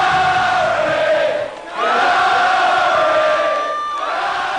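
A large crowd of about 4,000 at the Workers' Club celebrates a Kurri Kurri Bulldogs win, chanting and cheering loudly in a sustained, rhythmic chorus of voices with a brief dip in the middle.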